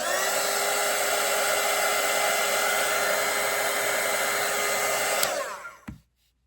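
A handheld hair dryer drying a layer of acrylic paint on a painted Santa hat, blowing in a steady loud whoosh for several seconds before it clicks off and winds down.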